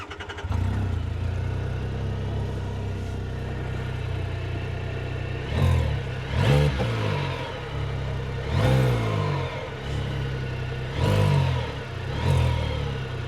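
A CFMOTO UFORCE U10 PRO Highland UTV engine starts and settles into a steady idle, then is revved four times in rising, swelling bursts, heard close and loud with no talk.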